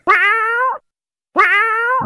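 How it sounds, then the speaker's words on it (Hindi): A cat gives two drawn-out, clear meows close by, each lasting under a second, with a short silence between them and no other sound. "cat C A T cat cat मतलब बिल्ली"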